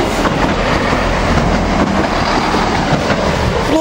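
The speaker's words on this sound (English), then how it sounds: "165 on a semi-fast service to London Marylebone." A Class 165 diesel multiple unit on a semi-fast service to London Marylebone passes close by at Princes Risborough, a loud continuous roar with wheel clatter and a faint squeal near the end.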